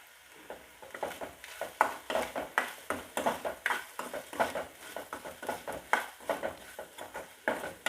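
Beetroot stir-fry with grated coconut being stirred in a pan, a steady run of scraping, clattering strokes over a soft sizzle, close and moderately loud, with no voices.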